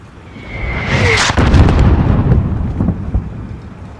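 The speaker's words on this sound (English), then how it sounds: "There's still a mortar out there." Mortar fire in the Call of Duty Modern Warfare campaign: a heavy, rumbling explosive boom swells and rolls on for several seconds, with a rising whistle before the impact and debris crackle trailing off.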